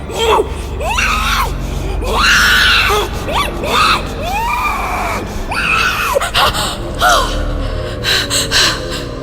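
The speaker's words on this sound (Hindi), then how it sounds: "सोनम चीखते हुए उठी" A woman screams and gasps in terror in a horror story, a run of loud, close, ragged shrieks and sharp breathy gasps that repeat in bursts and then fade into shorter panicked breaths.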